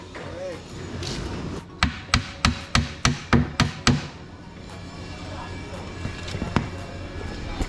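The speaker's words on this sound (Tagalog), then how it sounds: "Tapos lalagyan natin ng pako dito para mas matibay siya." Eight sharp hammer blows drive nails into a DIY cabinet in a quick, even rhythm, close and loud, with quieter background noise before and after.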